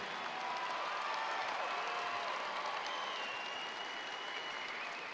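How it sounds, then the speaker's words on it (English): A crowd at a BYU basketball jersey retirement ceremony gives Roland Minson a round of applause: steady, even clapping that sounds distant and faint, with no break. "another round of applause for the cat,"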